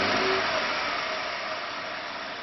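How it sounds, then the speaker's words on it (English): A six-cylinder car engine is revved steadily during a relative compression and power balance test, giving a loud, sustained close-up roar that holds level and eases slightly over a couple of seconds. "And I'll rev it up a little bit."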